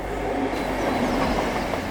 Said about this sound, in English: There's a Class 60 coming from Jarrow